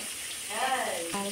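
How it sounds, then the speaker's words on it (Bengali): Pointed gourd (potol) sizzles steadily in a hot pan during home cooking for a Jamai Sasthi feast, a close, continuous frying hiss with brief stirring noises. "আর এখানে হচ্ছে পটল ভাজা হচ্ছে"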